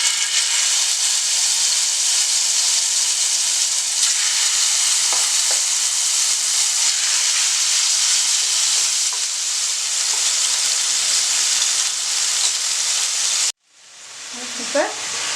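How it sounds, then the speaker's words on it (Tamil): Boneless chicken pieces for shawarma fry in hot oil in a pan, giving a loud, steady crackling sizzle that cuts off abruptly near the end before the hiss swells back up. "இப்போ வந்து நம்ம கொஞ்சம் கொஞ்சமாக போட்டு வந்து நல்லா ஃப்ரை பண்ணிக்கலாம்."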